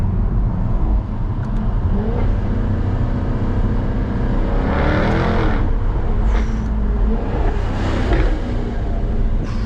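A loud 2017 Jaguar F-Type R AWD 550 hp engine drones steadily from inside the car in race mode with the sports exhaust open, with rising revs and swells of exhaust roar; no one speaks.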